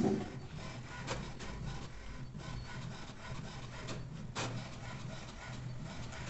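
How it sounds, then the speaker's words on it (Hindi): An HP Smart Tank 580 inkjet printer prints a color page, with a steady close mechanical whirring and rubbing under a few sharper carriage strokes. "तो जैसा आप देख सकते हो कलर प्रिंट शुरू हो चुका है।"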